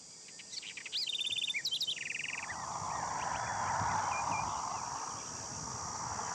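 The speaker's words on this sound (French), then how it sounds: "Ces oiseaux frugivores jouent un rôle important dans cet écosystème." Fruit-eating birds call in an Argentine forest, with a run of rapid, repeated chirps up close followed by a broad rushing wash of ambient sound.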